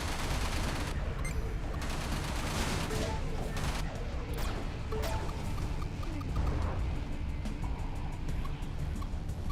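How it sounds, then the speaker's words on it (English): Turret and missile fire in the space combat game Everspace, a continuous dense barrage of blasts and crashes that stays loud throughout. "Turrets and missiles coming my way."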